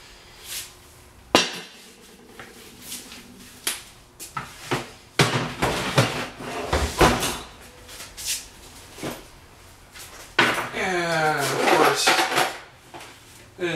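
A cast iron Dutch oven and other items are handled in a storage unit, making irregular clanks, knocks and scrapes of varying loudness throughout, with a person talking in between.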